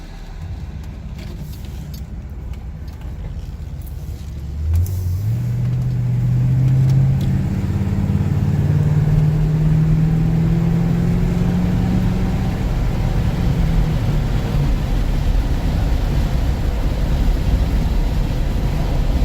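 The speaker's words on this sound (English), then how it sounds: "hopefully you could hear some of the engine notes" A 1974 Pontiac Grand Am sedan with its 400 engine runs steadily, settling into a loud, sustained low rumble that swells midway as the revs rise and then holds near and even.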